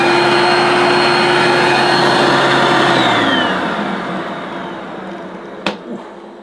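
A Hoover Junior U1650 upright vacuum cleaner runs with a loud, steady motor whine and hum, then drops to a lower, quieter drone as its power is turned down, with a brief click near the end.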